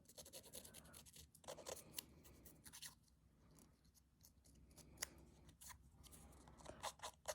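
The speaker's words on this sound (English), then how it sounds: "One of these little scissors will do the trick." Small scissors scrape and snip along a paper edge to distress it, a close, faint series of irregular crisp scratches and cuts with brief pauses.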